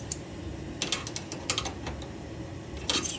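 A small wrench ratchets and clicks against fittings on a KitchenAid stove gas line, a series of close, sharp metallic ticks in irregular bursts, no voices.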